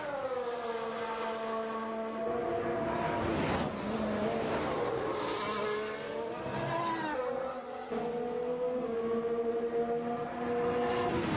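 Formula 1 cars run laps at the 2021 Russian Grand Prix during second practice, their high-revving engines whining and shifting pitch as they pass at a distance, rising and falling in sweeps with a brief gap before another car arrives.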